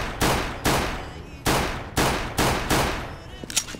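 Six sharp gunshots ring out in CS:GO at roughly half-second intervals, each loud and close with a short decaying tail, followed by faint clicks.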